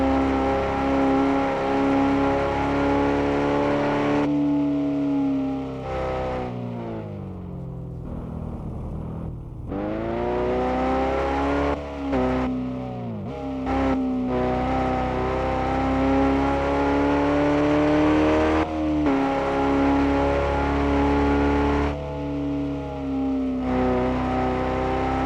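Simulated car engine on slick tyres in the RevHead driving game, a steady droning tone that rises and falls with throttle and shifting, loud and continuous with brief dips between gears, no talking.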